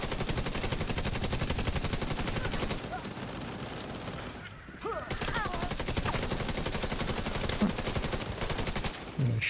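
Rapid automatic gunfire from a video game rattles in dense, continuous bursts, loud and close, with a short lull near the middle before the shooting resumes.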